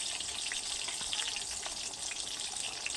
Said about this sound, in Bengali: এই বেগুনগুলোকেও একই রকমভাবে ভেজে নেব।